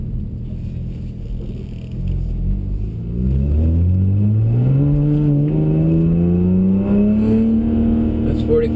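BMW 135i fitted with a prototype exhaust revs from a low idle up toward 4,500 RPM, a loud, steadily rising engine drone that climbs in pitch over several seconds, recorded from inside the car on a wet road.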